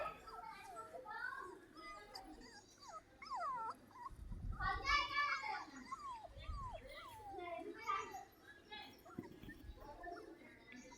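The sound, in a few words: puppies whimpering while trying to drink milk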